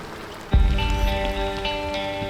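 Rain falls steadily during an off-road convoy trip, with a soft patter of drops on surfaces after a sudden low thump and a faint steady hum underneath.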